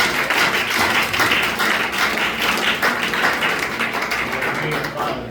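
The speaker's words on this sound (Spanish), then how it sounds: "Denle un aplauso al Señor." Church congregation applauding steadily and loudly for the full length, a dense wash of clapping without pause.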